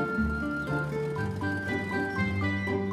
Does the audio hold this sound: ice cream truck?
yes